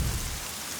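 Heavy rain pours steadily, with a low rumble of thunder at the start that fades under the dense hiss of falling water; no voices.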